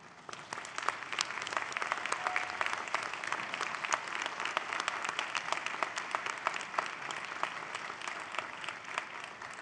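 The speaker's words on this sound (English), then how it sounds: "give them a warm round of applause for supporting your journey" Graduates at a spring university convocation ceremony applaud their families, a large hall crowd clapping steadily and evenly for several seconds with individual claps standing out, heard from a distance and without speech.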